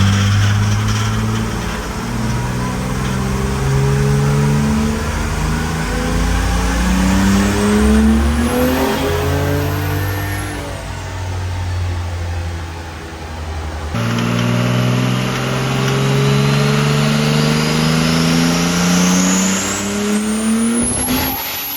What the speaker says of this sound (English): Second test, turbo only with quick spool valve working.